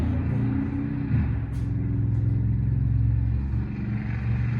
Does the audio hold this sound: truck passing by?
yes